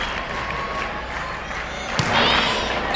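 Crowd at a 1996 Class C volleyball state final between Hanover-Horton and Montague at University Arena in Kalamazoo, cheering and clapping in a moderate wash that rises briefly toward the end.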